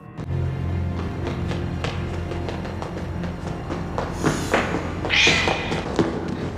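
Several cat meows and yowls rise over a steady low hum, with a few soft thumps scattered between them.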